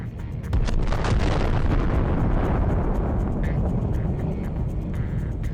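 A loaded rocket launcher's secondary explosion bursts out and rolls into a long, heavy roar of continued blasting and rumble that slowly tapers but stays loud.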